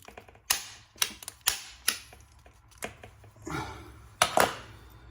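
Punch-down tool seating wires into an Ethernet keystone jack: a series of sharp, close clicks and snaps at irregular intervals, some in quick pairs, with light handling rustle between them.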